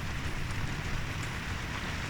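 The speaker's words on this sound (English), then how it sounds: "it's pouring with rain now. Can you hear that on the roof?" Heavy rain pours onto a roof during a thunderstorm, a dense, continuous hiss and patter at moderate level with no other sounds standing out.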